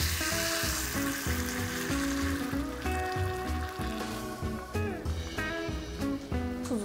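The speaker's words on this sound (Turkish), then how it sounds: "Unu kavuruyorum. Arada bir köfteleri de çevirelim." Flour roasting and meatballs frying in a pan give a steady, close sizzle with scraping and stirring noises throughout, and no talking.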